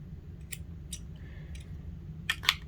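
Scissors snip off the end of crochet yarn in a quiet room, a few soft, short clicks and cuts spread over a couple of seconds, ending with two sharper snips.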